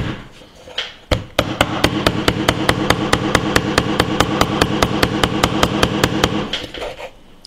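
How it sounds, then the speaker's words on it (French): An Oukitel K6000 smartphone is used as a hammer to drive a nail, giving a steady run of about twenty sharp, evenly spaced strikes over a constant background noise, close and loud. "on tient bien le smartphone et on plante."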